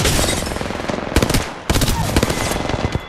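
Rapid automatic gunfire in the Apex Legends game on console, dense overlapping bursts of shots with a brief lull, loud and continuous, with faint voice chatter underneath.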